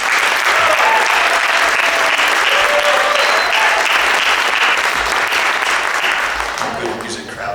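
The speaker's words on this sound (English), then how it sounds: "So please, for the entire band, a round of your applause." A jazz festival audience at a university concert gives the band loud, sustained applause with scattered whoops, the clapping beginning to thin out toward the end.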